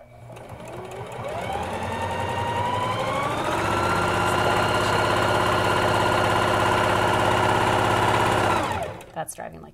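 A sewing machine runs steadily at moderate speed while stitching a fabric mask, a close, sustained whirring hum that builds, holds for several seconds, then stops with a few faint clicks.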